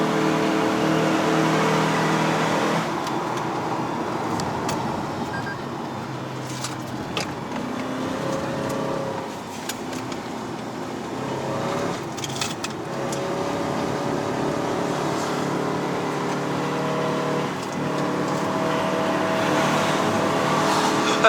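A Toyota Camry XV70 Hybrid Ascent Sport climbs uphill on the Genting run in Malaysia, heard from inside the cabin as a steady, continuous hum of engine and road noise with no talking.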